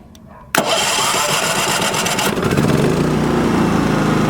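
A Champion 3400-watt dual fuel portable generator engine catches abruptly after a quiet moment, started without the choke, then runs loud and rough. Its revving picks up and steadies into a continuous drone.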